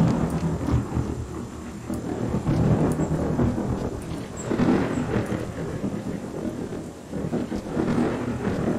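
A thunderstorm rumbles in the video game Journey of Life, with continuous loud rolling thunder and rain noise that swell and ebb over several seconds.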